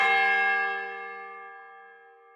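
A single bell is struck once, with a bright metallic attack followed by a long ringing decay that fades steadily over a couple of seconds, clear and alone with no voices.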